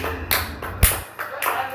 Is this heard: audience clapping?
yes